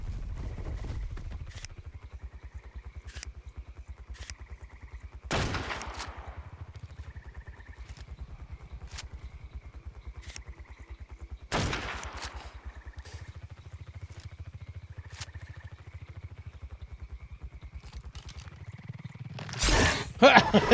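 Rifle shots crack out in ARK Survival Ascended, with three loud sharp reports spaced several seconds apart over a steady low in-game rumble and rhythmic footsteps, with a final burst at the end.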